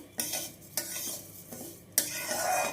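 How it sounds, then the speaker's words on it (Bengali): Fragrant rice stirred in ghee in a pot: three distinct scraping strokes of a spoon over a soft background sizzle, close and clear, with no talking. "চালটা ঘি দিয়ে ভাজি একটু"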